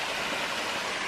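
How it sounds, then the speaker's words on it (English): A small waterfall in Bankhead National Forest rushes continuously nearby, a dense, even wash of splashing water with no pauses or voices. "There's a little waterfall."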